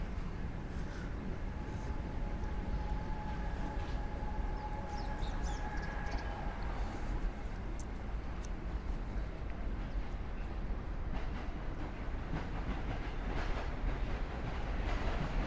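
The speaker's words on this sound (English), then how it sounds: "you could hear the N train below us." A New York N train passes below a Sunset Park, Brooklyn street as a steady distant rumble with a faint whine, heard under constant city ambience.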